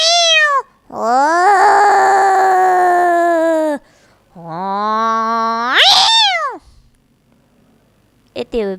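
A voice mimics fighting cats in two drawn-out, strained yowls, the second climbing sharply in pitch, loud and close, followed by a brief quieter sound.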